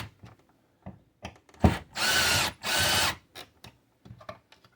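A power drill set to low torque drives a screw into a socket being added to an existing electrical circuit: two loud whirring bursts of about a second each, surrounded by quiet clicks and handling knocks.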